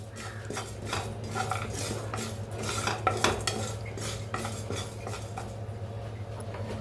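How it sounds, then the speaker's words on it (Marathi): Sesame, cumin and poppy seeds being roasted in a little oil in a pan, a spoon scraping and clinking against metal in quick irregular strokes over a low steady hum. "भाजून घेऊया आपण पहिलं। तरी सगळं भाजून घेऊया, थोडंसं तेल ओतून।"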